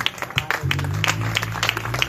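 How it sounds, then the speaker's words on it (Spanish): A church congregation claps in a steady, rhythmic beat at a Spanish-language worship service, the even strikes sounding over a sustained low musical drone. "yo quiero que le brinde un fuerte aplauso al Señor"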